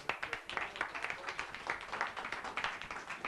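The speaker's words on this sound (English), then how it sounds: "Mr. Rehan Ahmed and Ms. Suzanne Slace deserve a special round of applause for bringing this together." A short burst of applause from a crowd, steady clapping that stays fairly even throughout.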